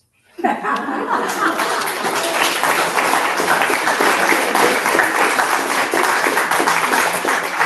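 Sustained audience applause with scattered chuckles and laughter after a poetry reading at a Planet Earth Poetry 30th anniversary event, starting abruptly and holding steady and full throughout.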